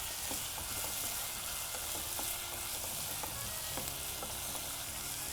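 Food fries steadily in a hot pan for a Tamil home-style dish, a continuous sizzling hiss broken by a few soft clicks of a spoon stirring, close and even with no talking.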